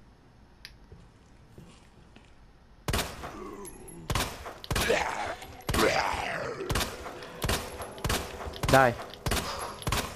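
Gunfire in Resident Evil 2: a string of sharp, loud shots spaced about a second apart after a quiet lead-in, with a voice speaking briefly between the blasts.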